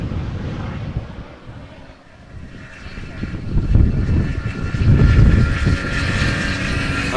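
An airliner lands in gusty crosswind at Amsterdam Schiphol Airport, a deep engine rumble that dips, then builds to a loud roar mixed with wind buffeting on the microphone.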